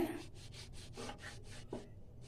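A knife cuts a crispy wheat-flour egg paratha on a plate, making about eight quick, rhythmic rasping strokes, close up and faint.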